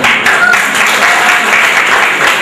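A crowd applauds at a student cultural and speech program, a dense, steady roar of clapping that holds at the same level throughout.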